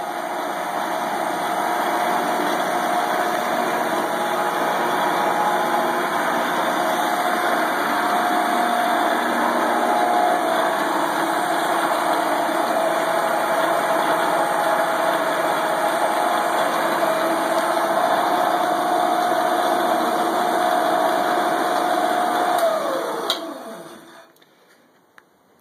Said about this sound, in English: I thought I would just hook it up quick and test it, put it on a slow speed.